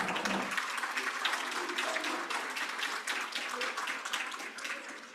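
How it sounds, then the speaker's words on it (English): A steady round of applause from a sizable crowd, dense clapping sustained at an even level throughout. "let's give Pace and Jim Schindler a huge round of applause."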